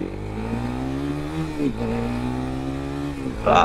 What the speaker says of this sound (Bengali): এই ধরনের সাউন্ডগুলো আসলে রেসিং স্পোর্টস বাইকে লাগানো থাকে